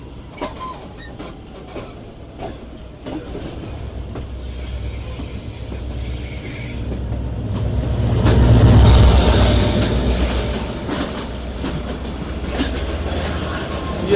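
A passenger train approaches a railway junction station, wheels squealing and carriages rumbling with clickety-clack beats, swelling to a loud peak midway and then settling into a steady rolling roar.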